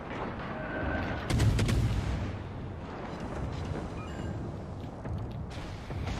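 Heavy naval gun salvos from the IJN Akatsuki destroyer in World of Warships Legends, a loud deep boom around the second mark followed by rumbling battle ambience and further softer reports.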